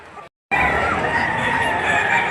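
A rooster crowing amid the busy chatter of a chicken market in Padre Garcia, Batangas, loud and close, one long sustained call after a brief cut, with crowd noise underneath.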